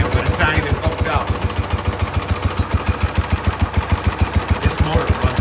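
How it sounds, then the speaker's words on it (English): A Cub Cadet lawn tractor engine running at a steady idle, its low, even putter pulsing rhythmically and close, with someone talking over it. "This motor runs really well."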